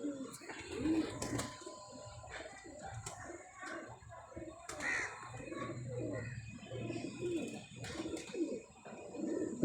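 Pigeons coo repeatedly in a loft, soft rolling calls overlapping at close range with occasional wing flutters and scuffs, while a person talks quietly in the background.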